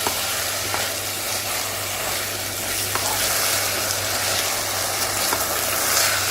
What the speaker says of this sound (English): Just saute the rice for a few seconds.